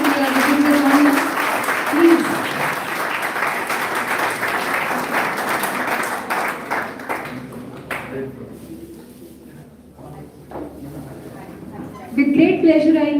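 An audience at a college national seminar claps in sustained applause that fades, gives way to a voice speaking, then rises again briefly at the end.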